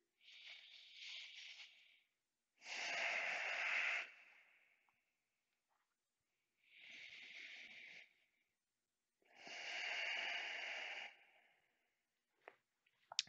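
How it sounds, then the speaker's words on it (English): A person in a yoga standing forward bend breathes deeply through the nose. Four long, quiet, airy breaths alternate with pauses of silence, close and soft, with a small click at the end. "Hang down for a couple deep breaths through the nose here."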